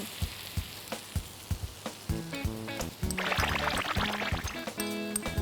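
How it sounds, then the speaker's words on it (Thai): Shrimp stir-frying in a hot pan with oyster sauce for a noodle dish, a steady loud sizzle with scraping, spatula taps and a surge of crackling as liquid hits the pan. "ใส่กุ้งตามลงไป แล้วปรุงรสด้วยน้ำมันหอย"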